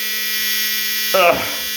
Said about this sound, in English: I'm going to have to pop the trimmer out.